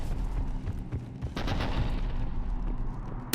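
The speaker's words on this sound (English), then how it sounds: "The cannon fire is clearing the way." Cannon fire in the video game Mass Effect 3, rapid repeated booming blasts and rattling gunfire forming a dense, loud barrage, with no talk.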